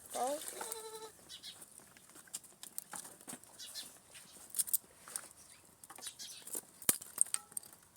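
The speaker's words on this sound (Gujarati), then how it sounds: "હું બકરાને બાંધી દઉં" A goat gives one brief, faint bleat at the start, then the scene stays quiet with scattered rustling and small knocks outdoors.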